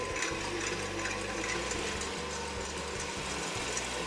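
A stand mixer whips egg whites with a pinch of caster sugar in its bowl, producing a steady close mechanical whir with a fast rhythmic rattle, continuous and even throughout.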